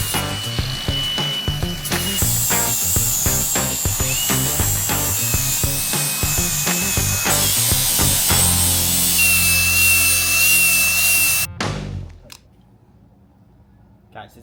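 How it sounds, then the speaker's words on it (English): An angle grinder works metal on a custom flatbed for a C60 Cummins truck, outdoors on a hot evening. Loud, close rasping and whining comes in rhythmic bursts as the disc bites, with a high tone rising and falling, then it cuts off abruptly near the end. "Let's take turns with the grinder and film each other."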